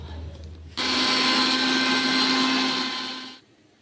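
An electric blender grinds green chillies in one steady, loud, continuous whir lasting nearly three seconds, starting abruptly and winding down at the end, heard close up in a kitchen.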